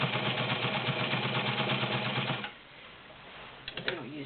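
A White Model 614 heavy-duty 1.3 amp sewing machine with a size 18 needle stitches through five layers of Levi's denim, a steady rapid mechanical whir and clatter up close that stops abruptly, leaving a few faint clicks.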